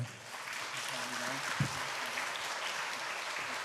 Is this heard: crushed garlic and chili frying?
no